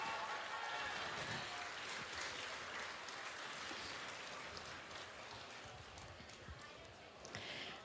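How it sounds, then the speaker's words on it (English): An audience at the WRC Rally Estonia opening ceremony in Tartu gives a big round of applause, a dense, continuous patter of many hands clapping that fades slightly toward the end, with a voice faintly audible within it. "Big round of applause."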